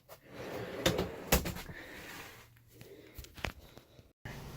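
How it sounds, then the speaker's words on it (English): A secret compartment drawer is slid out after a small switch is pulled up: a few sharp clicks and knocks, then a soft scraping slide and one more click, all close and fairly quiet. "here's this little switch that you pull up"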